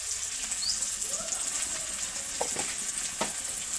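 Ginger paste and ground spices sizzle steadily in a hot pan, with a few soft scraping stirs near the end and no voices.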